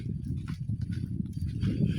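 Two black horses walk along a long path, hooves clip-clopping in a quick, uneven rhythm close by, with a low rumbling background and no talk.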